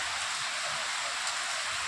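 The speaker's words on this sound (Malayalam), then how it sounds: "ഇവിടെ ഇന്ന് കാലത്ത് മുതൽ നിർത്താത്ത മഴയാണ്." Heavy rain that has fallen nonstop since morning in Thrissur, Kerala, pours down in an even, dense, continuous wash of noise with no pauses.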